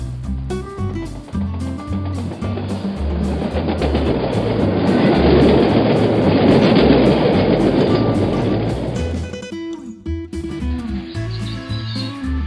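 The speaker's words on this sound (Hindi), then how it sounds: "ट्रेन अपनी पूरी रफ्तार से जा रही थी।" A cartoon train runs at full speed. Its rumbling clatter swells under the background music, holds for several seconds, then fades away.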